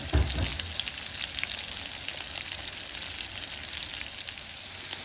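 Salmon fillets fry in a pan with a steady, close sizzling hiss, opening with a soft thump as a fillet is turned, and no talking over it.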